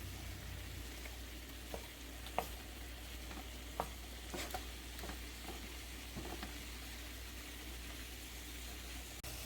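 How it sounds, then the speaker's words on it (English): Shrimp frying in a pan over medium heat, a steady low sizzle with occasional soft clicks and spatters, heard alone without talk against a constant low hum. "you want to cook your shrimps for 2 minutes on medium heat"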